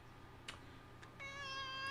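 A pet cat meows once, a drawn-out tonal cry near the close, with a couple of faint soft sounds just before it over low background hum.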